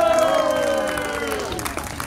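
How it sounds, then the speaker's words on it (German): An audience at a 2014 stage show in Neustadt am Rübenberge applauds a strongman act called Herkules, who performs with a hammer and nail. Dense, steady clapping and cheering fill the whole stretch, with a held tone ringing over it. "Applaus für Herkules"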